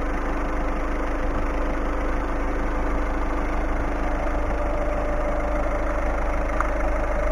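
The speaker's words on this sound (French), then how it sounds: "je vais vous montrer le moteur qui tourne avec son bruit caractéristique d'un diesel" A Peugeot Partner's diesel engine idles steadily at close range, a low, even rumble with a faint clatter running unbroken from start to finish.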